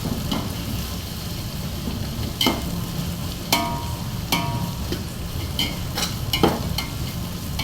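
Onions, a mix of large and small shallots, sautéed in a pan for jeera samba mutton biryani, with a steady low sizzle and occasional sharp scraping stirs of a spoon against the pan.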